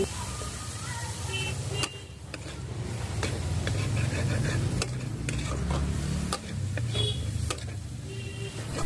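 Chopped tomatoes frying with ginger and green chilli in a pan give a steady close sizzle, with a few sharp clinks of a spoon against the metal as they are stirred.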